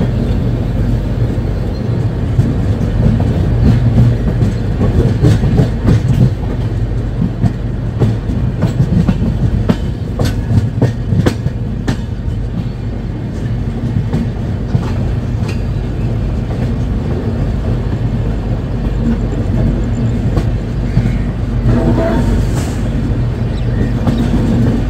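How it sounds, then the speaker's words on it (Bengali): The Padatik Express rolls into platform 1 at New Cooch Behar, a loud continuous rumble with rhythmic clickety-clack of wheels over rail joints, no talk. "নিউ কুচবিহারের 1 নম্বর প্ল্যাটফর্মে ঢুকছে কিন্তু ট্রেনটি।"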